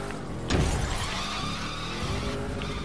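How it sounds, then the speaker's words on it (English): A car drifting in The Crew 2 sends out a loud tire screech that flares suddenly and then holds as a sustained squeal over the running engine. "Now let's rock and roll and do some good old-fashioned American drift."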